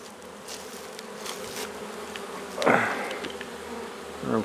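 Honey bees buzz around the front of a hive in spring, a continuous close hum that swells briefly as one passes near the microphone.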